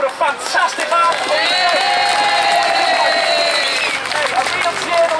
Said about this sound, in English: can I have a round of applause for Paddy Seven from the Echo for a fantastic article